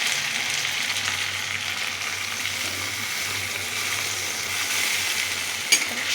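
Chopped capsicum is stirred in a hot pan, a continuous bright sizzle at steady level with occasional faint scrapes and a single sharp knock near the end.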